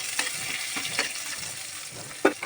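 Cumin seeds and bay leaves sizzle and crackle steadily in hot oil, with occasional sharper pops and a few stirring scrapes, close up and with no voices.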